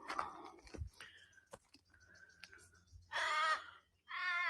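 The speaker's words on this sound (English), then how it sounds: "Oh, there's the crow." A crow caws in the Blue Mountains at Mt Blackheath, Australia, starting with scattered faint calls and then two loud, harsh, drawn-out caws close by near the end.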